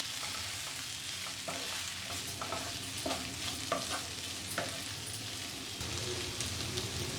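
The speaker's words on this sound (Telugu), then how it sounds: "అలాగే కారం వేసుకోవాలి, పసుపు, ఇవన్నీ వేసి బాగా కలుపుకోవాలి." Boiled colocasia pieces being stirred with chili powder and turmeric in a hot pan, a constant close sizzle and frying crackle with repeated scraping and clinking of a spoon mixing throughout.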